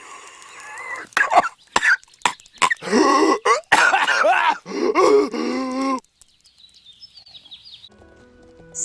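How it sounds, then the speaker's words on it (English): A string of harsh, phlegmy coughs and throat-clearing grunts in quick bursts from someone with a bad cold, close and loud, then a brief quiet stretch with faint background noise. "I'm coughing constantly, my throat is sore"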